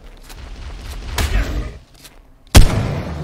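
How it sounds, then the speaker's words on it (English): Shotgun blasts in Ark Survival Evolved Mobile, two sharp booming shots about a second apart, each with a rumbling tail, the second louder and closer, over quiet game ambience. "I wish the shotgun would let me shoot."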